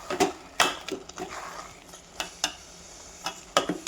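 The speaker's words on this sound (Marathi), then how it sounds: "पातेल्यामध्ये हा किस टाकायचा, त्यामध्ये हा गूळ घालायचा आणि शिजवून घ्यायचं" Grated pumpkin cooking with jaggery in a pot, stirred with a utensil that scrapes and knocks against the metal sides in irregular sharp clatters over a soft bubbling simmer, with no voices.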